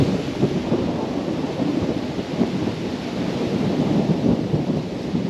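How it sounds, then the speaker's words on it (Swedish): A thunderstorm in Peja, Kosovo: steady heavy rain hiss mixed with a continuous low rumbling thunder roll, loud and unbroken throughout with no voices. "Det kommer att vara riktigt oväder idag"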